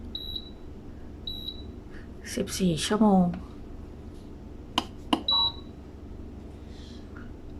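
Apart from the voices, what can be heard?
beeps while setting the timer on a food dehydrator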